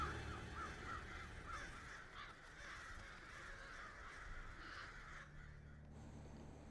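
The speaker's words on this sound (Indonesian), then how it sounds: "yang memecahkan kaca rumah mereka adalah seekor burung" Crow-like caws ring out in a film scene, a series of harsh, rasping calls in quick succession over the first few seconds, fairly close, followed by quieter background ambience.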